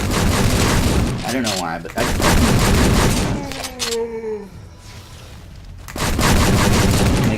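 Guns fire in the VR shooter Titan Slayer 2 as dense, loud bursts of gunfire with booming blasts, broken by a short lull, while someone talks over the action.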